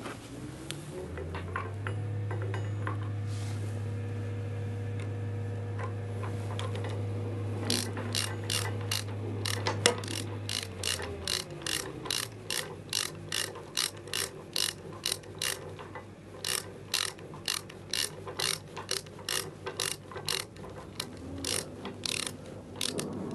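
Ratchet wrench clicking steadily as it works the sidelock on a digger bucket tooth, a loud close run of sharp rhythmic ratcheting clicks against a low mechanical hum, no voices.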